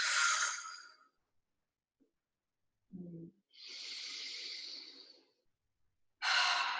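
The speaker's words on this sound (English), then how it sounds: "I really like the inhale through the nose and exhale through the mouth." Quiet breathing in a yoga class, with slow exhales through the mouth and a soft nasal inhale between them, each breath lasting about one to two seconds with silent pauses in between.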